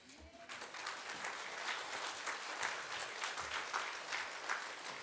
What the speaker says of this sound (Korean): 뜨겁게 환영의 박수로 모시기 바랍니다